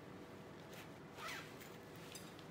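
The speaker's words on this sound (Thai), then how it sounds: "ดึงซิปมาค่ะ" A zipper is pulled on a mother's baby travel bag that folds out into a bed, making one brief, quiet zip in the middle against a faint background.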